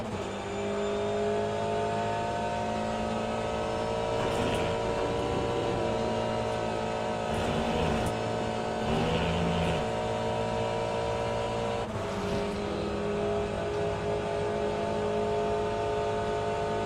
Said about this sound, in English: The hypercars are coming.